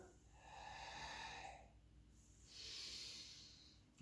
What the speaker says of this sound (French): Ça peut être sonore, cette respiration